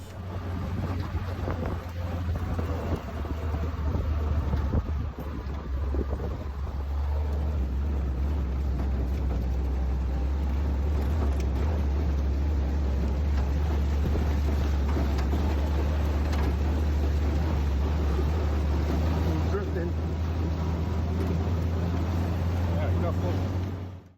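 Vintage WW2 Jeeps on a drive, a steady low engine drone and road rumble running throughout, close and loud, with heavy wind buffeting across the microphone and a voice talking faintly underneath.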